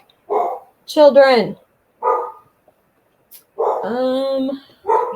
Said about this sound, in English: you might hear my dogs bark here in a few minutes